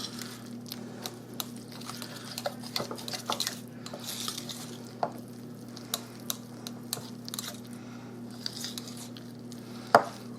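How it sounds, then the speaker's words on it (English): A no-bake fruit and cookie dessert mixture with pudding is stirred in a bowl, with soft scraping and scattered clinks of utensil against dish over a steady low hum, no talking. "I'm going to stir this up"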